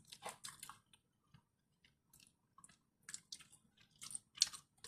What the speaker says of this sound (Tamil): முக்கியமாக இந்த உறிஞ்சு சாப்பிடணும்.